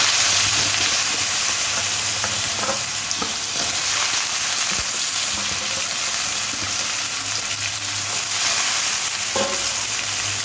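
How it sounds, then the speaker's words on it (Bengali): Cubed potato and radish frying in hot oil, a steady loud sizzle and hiss with occasional scrapes of a spatula stirring the pan, close up and with no talking. "আলু আর মূলো তার তেলের ওপর একটু নাড়াচাড়া করে একটু ভেজে নিতে হবে"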